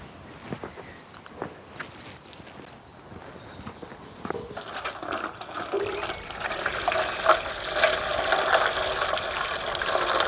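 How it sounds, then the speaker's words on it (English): Water pours from a hose or tap into an old tub with a hole in the bottom, being filled as a small garden pond; the rushing splash starts quietly, then swells into a steady, louder gush after a few seconds, with faint birdsong early on. "Now all I've got to do is fill it with water"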